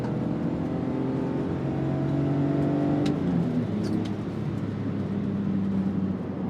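BMW X5 SUV with a 3-liter engine of about 220 horsepower, manual gearbox, accelerating hard with a rising engine drone that shifts pitch partway through, steady and close throughout.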